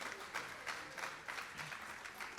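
An audience at a keynote discussion and performance applauds as a faint, steady wash of clapping that swells in gentle, regular pulses, heard from a distance.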